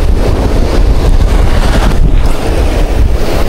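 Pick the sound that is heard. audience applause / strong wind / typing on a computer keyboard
strong wind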